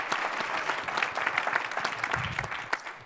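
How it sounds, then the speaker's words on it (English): An audience at a talk-event breaks into steady, dense applause, many hands clapping together at moderate volume throughout, with no speech over it. "I'd like everyone to clap for Gary now."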